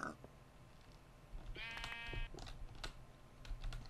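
Sheep bleating in the Minecraft video game, a single harmonic bleat of about a second against constant background game noise, with soft keyboard typing clicks before and after.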